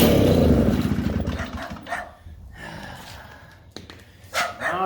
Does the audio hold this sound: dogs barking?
yes